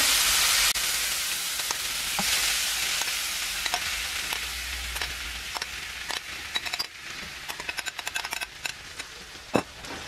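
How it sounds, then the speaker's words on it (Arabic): Shrimp frying in a honey sauce in a pan, a steady loud sizzle that starts hissing strongly, then settles with stirring clicks and sharp pops scattered through the later seconds. "غادي نخليهم حتى يطيبوا، يتشحروا مزيان، يتقلاو في هاد لاصوص ويطيبوا"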